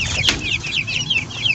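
Chickens in a backyard coop with young chicks, giving a steady run of soft high clucks and chirps close by, with light rustling beneath and no talk.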